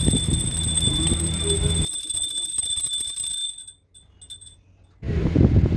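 A bright, sustained ringing of a puja hand bell during Navratri worship, with shimmering overtones, sounding for a few seconds, then breaking off into near silence before other sounds return.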